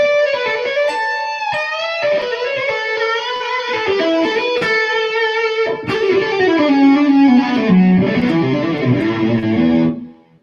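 A guitar amplifier's distorted channel rings out in sustained, heavily overdriven chords and notes, loud and gritty with thick harmonics, changing pitch partway through before cutting off at the end; no talking.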